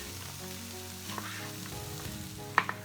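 Zucchini, tomatoes and onions frying in a pan, a steady close sizzle throughout with a couple of brief utensil clinks near the end, no voices.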